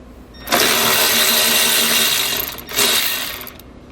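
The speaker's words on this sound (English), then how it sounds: "We'll use a 16mm socket as well to remove this nut." Power tool spinning a 16mm socket to remove a nut during a trailer hitch install, a loud continuous whirring buzz that dips briefly before resuming, close up with no talking.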